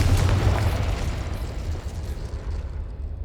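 The Confringo explosive spell in Hogwarts Legacy on PS5 bursts with a loud, deep boom that rumbles and fades out over a few seconds, with no one talking.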